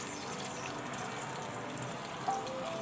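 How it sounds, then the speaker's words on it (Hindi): Water goes into a pan of fried, blended masala paste for besan khandvi, giving a soft, low gushing hiss with a faint sizzle. A small clink sounds near the end. "और पानी भी शामिल करूंगी।"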